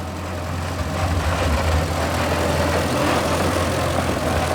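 A repaired tractor engine running steadily with a low, throbbing idle, close and continuous with slight rises in intensity, with no voices over it.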